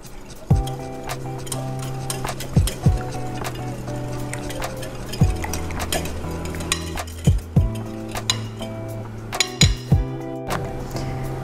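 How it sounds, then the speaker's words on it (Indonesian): A spoon stirs spicy chicken marinade in a bowl, producing repeated clinks and scrapes against the bowl at an irregular pace, close and clear with no talking. "Aduk rata."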